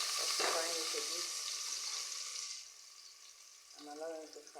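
Onions sizzling in jollof rice sauce in a pot, a continuous close frying hiss that eases off midway, with brief stirring noises and a short stretch of quiet speech over the cooking.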